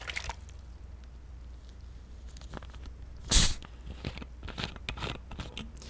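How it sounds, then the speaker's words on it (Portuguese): Single sharp hiss of a shaken bottle of sparkling water being opened, a loud burst lasting under half a second amid a quiet room with faint clicks and small knocks before and after. "Esse foi o pum da minha água com gás."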